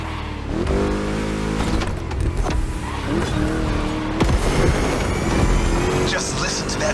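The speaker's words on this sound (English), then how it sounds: "Just listen to that V8, like a chunky, down-tuned guitar riff" A V8 car engine from The Crew Motorfest growls loud and close, revving and shifting through gears, with a game voice speaking over the engine.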